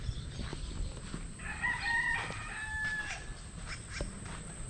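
A rooster crows once in Palomino, Colombia, a rising and falling harmonic call in the middle distance, over a steady background hum with faint rustling.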